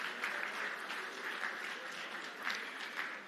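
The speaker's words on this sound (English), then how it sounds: "my plea for a resounding round of applause for President" An audience at a bank's annual meetings conference gives a sustained round of applause for the president, steady dense clapping throughout with slight swells near the end and no talk over it.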